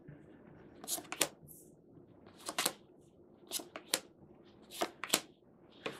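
Wordwright cards being dealt out into a grid on a table: a series of crisp card slaps and slides in small clusters, close up, with no talking.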